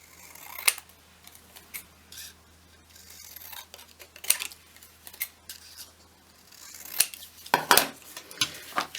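Scissors trim a paper gift tag up close, giving a run of irregular crisp snips and short cuts with small rustles of paper between them.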